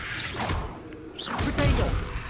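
Arresto Momentum spell cast in Hogwarts Legacy, a pair of airy magical whooshes with soft impacts, the second swell louder and fuller, heard alone without talk.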